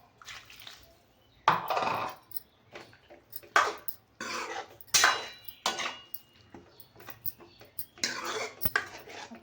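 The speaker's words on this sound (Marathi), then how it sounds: "त्यासाठी आता आपल्याला शिजण्यासाठी पाणी ओतायचं आहे" Water is poured into a pot of aubergine and potato curry in a home kitchen, heard as a few splashy pouring bursts alternating with pot and utensil clatter, close and fairly quiet.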